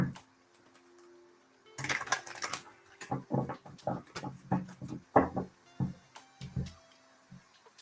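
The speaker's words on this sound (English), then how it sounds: "All right, one more shuffle." Tarot cards being shuffled by hand, a soft sequence of riffling flutters and light papery taps, close and quiet, with faint room noise and no talking.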